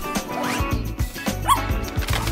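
Puppy yipping and barking in short, bright bursts, several sharp yelps with a brief whine, loud and close, with no voices.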